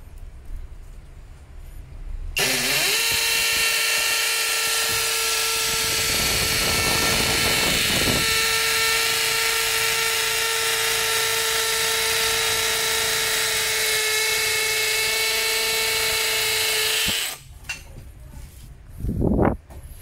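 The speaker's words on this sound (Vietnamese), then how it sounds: "Chế độ khoan búa số 2 nha, anh em cùng xem." A DCA cordless hammer drill rated 120 N·m bores into very hard concrete in hammer mode, a loud, close, continuous whine and rattle lasting about fifteen seconds, then stopping; brief talk follows.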